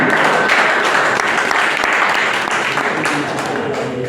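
Steady, loud applause from a show audience greeting the chief guest, Mr. Qamar Siddiqui, dense clapping sustained throughout with a few voices mixed in.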